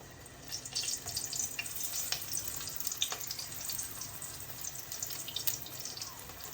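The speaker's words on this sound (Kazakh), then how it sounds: "баклажандарымызды қуырып аламыз екі жағын." Round eggplant slices frying in oil, a constant close hissing sizzle with faint crackles and light scrapes, steady throughout with no talking.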